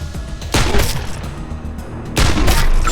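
Two loud bursts of gunfire in the Wasteland 2 video game, each a sharp heavy blast with a rumbling tail, spaced about a second and a half apart.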